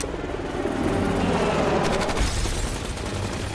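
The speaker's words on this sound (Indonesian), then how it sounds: "lalu tiba-tiba menghujani mereka dengan tembakan" Dense, continuous rapid gunfire from a helicopter roars with a heavy rotor-like drone underneath, loud and unbroken for a few seconds before cutting off abruptly, in the 2007 film Shooter.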